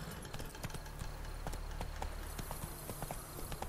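Hoofbeats of Roach, a horse in the video game Witcher 3, a steady clip-clop of hooves under a continuous low game soundscape.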